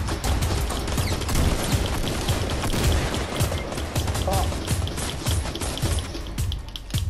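Fortnite gunfire rattles on continuously as a dense, steady spray of rapid shots at an even level, with faint talk mixed underneath.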